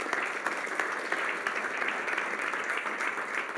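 A church congregation applauds during a sermon: continuous, even clapping from a crowd with a few sharper individual claps, filling the whole few seconds without talk.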